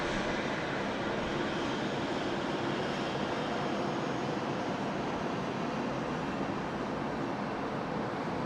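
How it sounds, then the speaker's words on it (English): A Batik Air airliner takes off on runway 34 left at Sydney Airport, its engines making a steady, broad roar that stays constant and fairly distant throughout. "Our Batic Air friends rolling now"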